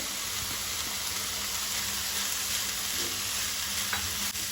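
Cabbage bhaji cooking in oil in a pan, a steady close hiss of frying with faint stirring scrapes throughout, no voices.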